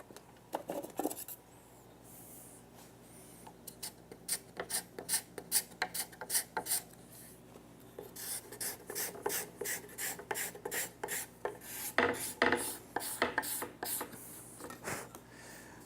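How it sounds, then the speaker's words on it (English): A card scraper scraping glue off a wooden table leg, repeated rapid rasping strokes in bursts, close and moderately loud, with no voices. "you can simply take a card scraper and just scrape that away"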